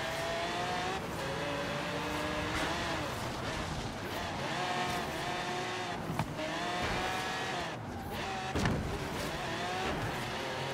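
Cars race and accelerate in Forza Horizon 3, with a continuous loud engine roar, shifting revs and occasional tire squeals throughout.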